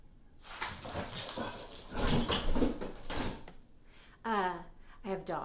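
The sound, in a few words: dogs whimpering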